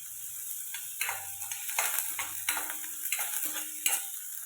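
Green chillies and sliced onion sauté in a pan, giving a steady soft sizzle broken by repeated scraping and stirring clinks of a spoon against metal, close up with no talking.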